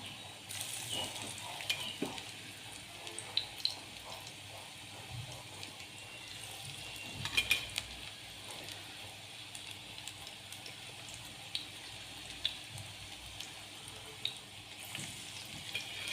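Pakora frying in hot oil, a steady low sizzling hiss with faint scattered pops and bubbling, continuous and fairly quiet throughout.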